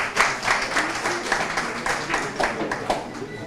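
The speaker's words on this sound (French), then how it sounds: "On peut les applaudir." Applause for the youth of Parakou at a gathering, with brisk clapping from a modest crowd mixed with nearby chatter, fairly close and lively throughout.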